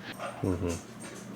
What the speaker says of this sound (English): I also apologize for my dogs in the background.